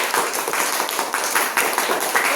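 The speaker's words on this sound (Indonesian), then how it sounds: "Tepuk tangan dulu," Steady clapping from a classroom group during a science lesson on forces, a dense spatter of hand claps running throughout with no voices over it.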